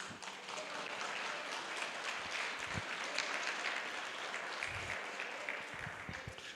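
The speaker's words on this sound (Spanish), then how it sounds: "Un fuerte aplauso para ustedes" Applause from a church congregation at an anniversary service, a dense, even wash of clapping that holds steady throughout, somewhat distant and fairly quiet.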